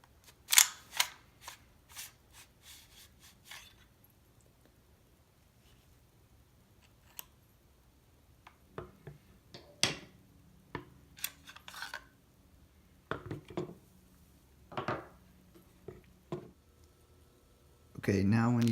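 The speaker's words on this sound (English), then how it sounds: "Then you're going to remove the stock and the bolt assembly." Sharp plastic and metal clicks, snaps and rattles from disassembling a KWA H&K MP7 airsoft gun, removing the stock and bolt, scattered and close in a quiet room.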